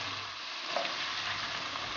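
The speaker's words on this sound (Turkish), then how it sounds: "Ürünler şişmeye başlayana kadar açık kapak olarak kavuruyoruz." Onion with chopped apricots and currants sautéing uncovered in a pan for an Azeri pilaf. A steady close sizzle runs throughout, with a faint stir in the middle.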